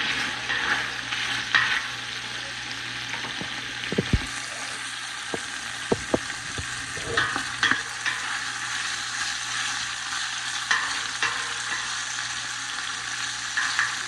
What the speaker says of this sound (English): Now, add our sausages in there and get them cooking.